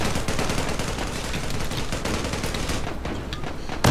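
Rapid gunfire bursts rattle continuously in a Turkish video game, dense, loud and relentless, ending with a sharp extra crack.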